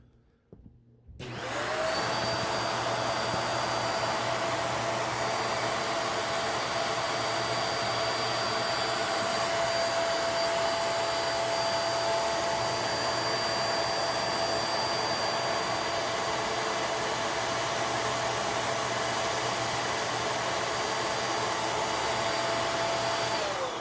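A Ultra Big Shark vacuum cleaner with a HEPA filter installed switches on after a brief moment of quiet, then runs with a loud, steady whine and roar that holds unbroken for the rest of the time.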